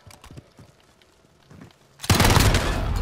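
Call of Duty Modern Warfare gunfight match: scattered faint shots and clicks give way to a sudden loud burst of sustained automatic gunfire that continues to the end.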